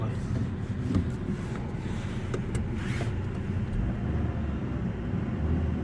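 A 2021 United Alpha car on a test drive in Pakistan gives a steady, muffled cabin rumble of engine and road noise, continuous and fairly loud, with faint clicks and no talk.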